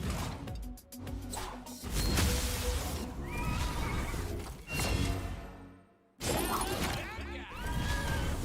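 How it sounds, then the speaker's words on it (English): A spooky, game-style horse neigh whinnies through a busy mix of crashes, clattering effects and music, with a brief drop to near silence before the sounds resume loudly. "Definitely got that spooky horse noise down."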